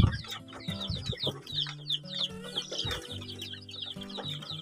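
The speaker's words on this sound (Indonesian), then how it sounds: "Ini adalah ayam umur hampir 2 minggu" Chicks almost two weeks old, still in the brooding stage, clucking and cheeping continuously, with many overlapping high chirps and softer low clucks from a busy group nearby.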